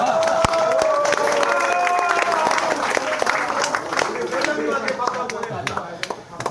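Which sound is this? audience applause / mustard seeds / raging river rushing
audience applause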